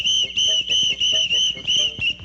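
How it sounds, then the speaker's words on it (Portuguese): A shrill whistle is blown in a rapid series of about seven short, even toots, each a piercing tone with a brief breath gap between, close and loud with no talk over it. "Me dá esse apito aqui."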